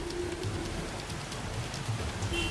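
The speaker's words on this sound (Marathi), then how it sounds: "तिकडे सिंधुदुर्ग जिल्ह्यात देखील जोरदार पाऊस आहे." Heavy monsoon rain in Sindhudurg district of the Konkan region, a dense, continuous downpour drumming on surfaces at close range, steady and loud throughout with no voices.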